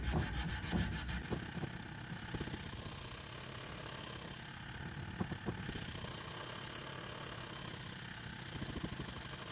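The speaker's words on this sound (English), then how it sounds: "It's wild the difference that hand sanding makes." Bowie knife blade hand-sanded with 220 grit paper and WD-40, a steady, close rasping rub that carries on throughout with faint rhythmic stroke pulses.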